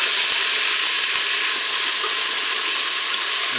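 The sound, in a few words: lentils added to hot Cookeo cooker pot, sizzling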